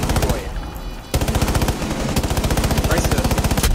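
Gunfire exchange in the video game Rainbow Six Siege, loud rapid automatic bursts with a brief lull then sustained steady fire, close and dominant.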